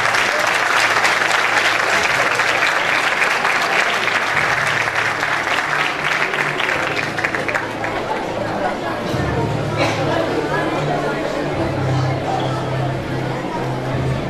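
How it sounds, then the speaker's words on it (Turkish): An award ceremony audience claps in loud, sustained applause that fills the hall, with crowd chatter mixed in and a voice speaking over the clapping. "Onlara büyük bir alkış daha gönderelim isterseniz."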